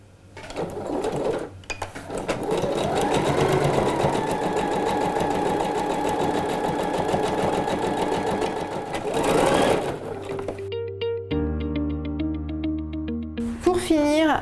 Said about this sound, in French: Et je vais faire ma deuxième surpiqûre.